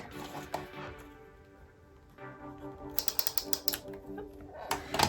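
Paper being cut for a handmade waterfall-pocket flip card: a quiet stretch, then a quick run of sharp, crisp snips and clicks close by, with a few more at the end and no talking.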